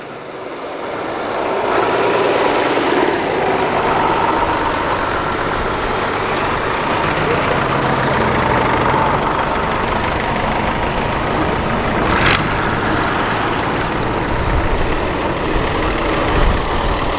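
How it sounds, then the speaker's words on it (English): A convoy of classic tractors, a David Brown, a Fordson and a Ford, rumbles past nearby with loud, steady low engine drone that stays fairly even for the whole stretch. "We appear to have a convoy of classic tractors."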